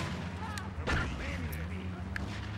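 A crowd fires guns in the GTA 3 video game: a burst of gunfire pops over a dense, noisy background, with someone talking throughout.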